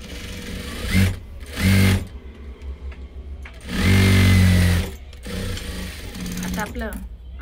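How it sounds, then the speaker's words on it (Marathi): An overlock sewing machine stitching blouse seams whirs in short, loud bursts, two quick runs followed by a longer one, with quieter handling sounds between them. "अशा पद्धतीने आता आपण अंडरलॉक करून घेणार आहे."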